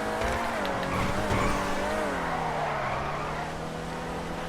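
In GTA Online, a Dewbauchee Vagner supercar brakes hard and skids with a sustained tire squeal over a steady engine drone. It stays loud and close for the whole stretch.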